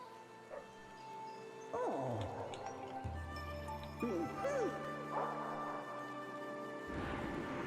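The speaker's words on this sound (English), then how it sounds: "If you hear my dog, no, you didn't." A pet dog gives a few faint yips and whimpering whines in the background of a room while a person talks and a video game plays.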